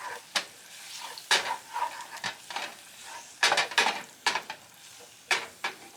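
Ground beef frying in a pan while being stirred, giving a low background sizzle broken by sharp scraping and clacking bursts from the utensil against the pan, irregular and close, with no talking.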